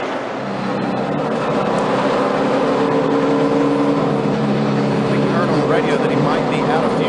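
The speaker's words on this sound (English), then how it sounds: "Hear the engine running." NASCAR stock car engine running during a race pit sequence, a steady loud droning roar that holds through the whole stretch with a commentator talking over it.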